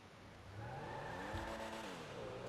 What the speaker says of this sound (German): Ich fahre jetzt runter, ich bin im Porsche.